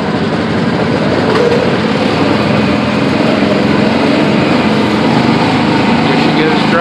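A small engine on an antique ride car at Indiana Beach amusement park drones loudly and steadily throughout, close up, with voices faintly under the noise.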